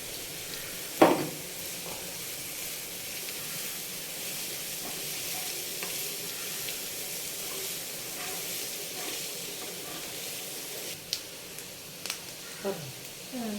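Onions frying with turmeric powder, stirred in a pan while making samosa filling, with a steady soft sizzle and a few faint scraping knocks from the spoon near the end.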